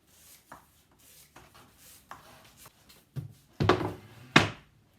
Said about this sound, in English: I'm just cutting it right to size, and 1/2 inch foam you can cut with scissors very easily.